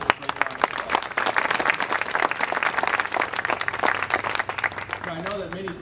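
An audience breaks into a full round of applause at a groundbreaking ceremony for a nursing home expansion, dense and loud clapping sustained for several seconds before a voice begins speaking as it fades.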